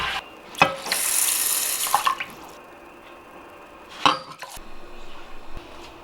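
Water runs from a tap into a pot of rice being readied for steamed rice, a hissing pour of a couple of seconds, then clinks of a pot and a second brief splash in a quiet kitchen.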